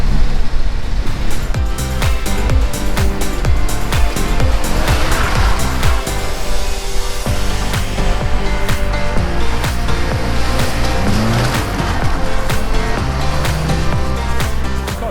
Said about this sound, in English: So when the 2 lights are on there, then you can actually slide the car.